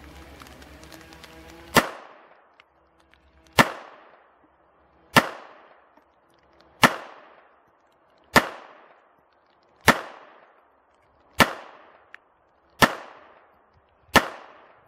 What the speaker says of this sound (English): we're going to go ahead and put a few rounds down range. We'll start with double action and then we'll transition into single action.